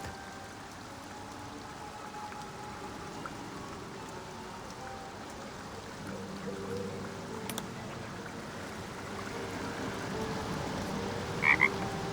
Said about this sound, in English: The frog croaks a friendly eep.